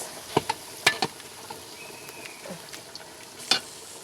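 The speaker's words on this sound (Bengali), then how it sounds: "মুরগির জন্য পেঁয়াজটা আমি বেরেস্তা বানানোর লেগা বসাই দিছি" Onions fry quietly in a pan, a soft sizzle broken by a few sharp, scattered pops and crackles.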